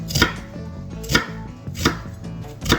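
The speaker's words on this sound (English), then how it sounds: "Gotta get after these onions. You want a nice fine chop here, right?" A knife chops onions finely on a cutting board, striking in four evenly spaced, sharp, close knocks with no talking.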